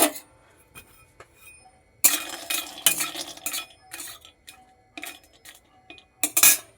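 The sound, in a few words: stirring peanuts and dried red chillies in a pan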